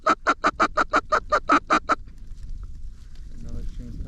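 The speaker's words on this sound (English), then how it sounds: "Geese." A flock of geese honks in a quick run of about ten loud, evenly spaced calls over a corn field. The honking then stops and only faint outdoor background noise remains.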